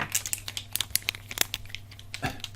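Crinkly plastic packaging rustled and torn while handling three newly delivered pens, a run of close, sharp crackles and crunches at an irregular rhythm, fairly quiet with no talking.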